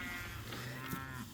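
Cattle on a sheep farm moo in one drawn-out, fairly loud call that fills the short moment with a low, steady lowing tone.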